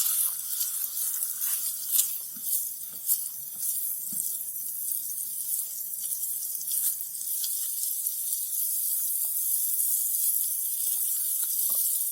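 Eggs fry with spicy tomato in a pan, giving a steady, close hiss of sizzling oil with small crackles and pops throughout, with no talking.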